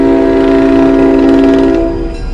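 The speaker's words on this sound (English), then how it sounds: "Meanwhile, Freight pulled into the station." A train pulling into a station in a video game, heard as a loud, steady tonal horn-like drone with rumbling underneath that eases off near the end.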